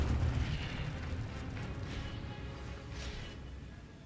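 A fire spell burst cast in the Hogwarts Legacy video game: a loud, dense rumbling whoosh with a heavy low boom at the start, then a sustained crackling roar that fades slowly, with no talking.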